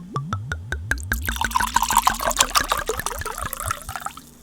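Pinot Grigio glugs from a bottle into a glass close up, with rapid gurgling pulses that merge into a steady splashing pour before it tapers off.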